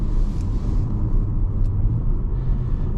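A 2014 Audi RS5 Coupe engine rumbling from inside the cabin while driving, a steady low drone with road noise and no one speaking.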